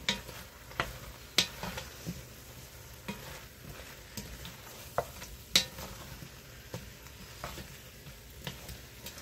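Homemade beef stew is stirred in a pot after two seasoning packets go in, giving a faint sizzle under repeated scraping and clinking of a spoon against the pot, alone without talk.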